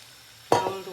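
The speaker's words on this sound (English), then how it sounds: "And then we put the chicken in the pan." Chicken wings hit a hot pan over high heat, a sudden burst of sizzling that flares up and then settles into a steady hiss, close by and fairly quiet overall.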